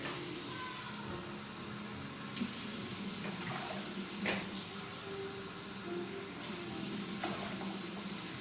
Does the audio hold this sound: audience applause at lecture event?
no